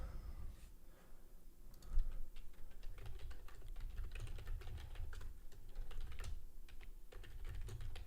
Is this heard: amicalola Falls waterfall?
no